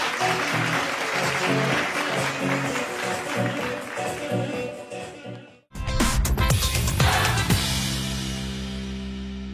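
Studio audience on an Azerbaijani TV talk show applauds in a dense, sustained patter for several seconds before an abrupt cut to louder, steady music.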